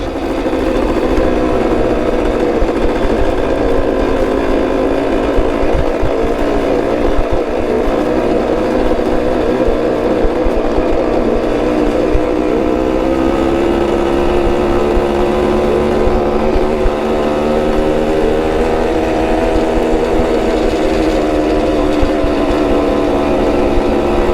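A 1972 Yamaha CT2 motorcycle runs at steady high revs while riding, its engine droning loud and continuous throughout, with a slight pitch shift partway through and no talking.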